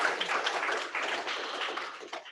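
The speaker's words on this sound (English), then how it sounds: "let's have a round of applause for the bonus presentation" An audience claps together after a presentation, a dense, fairly soft patter of many hands that stays steady throughout and thins slightly at the very end.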